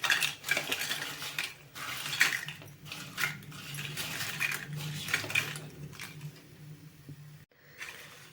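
A spoon stirs fried appalam into a side dish in a pan off the heat, giving steady close scraping and clinking with crisp crackles against a faint residual sizzle, continuous for several seconds before a brief pause.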